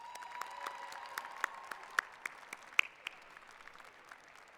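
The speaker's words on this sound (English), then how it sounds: "Please give them a round of applause." Scattered applause from an audience at a university commencement ceremony, sparse claps echoing in a large space, faint and tapering off.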